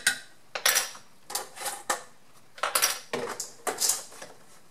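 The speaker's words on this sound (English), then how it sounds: "So we're going to stir this in nicely, and we're going to let it cook and reduce." Metal spoon clinking and scraping against a pot while stirring cumin, chili powder and salt into homemade salsa, a series of sharp, bright knocks in an uneven rhythm, close and clear with no voices.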